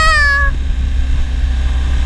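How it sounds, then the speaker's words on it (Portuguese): A BMW R 1250 GS motorcycle's tire squeals in a curve at Interlagos with a short, sharp, high-pitched chirp of about half a second, then a low engine drone continues underneath. "Ó, até cantei pneu."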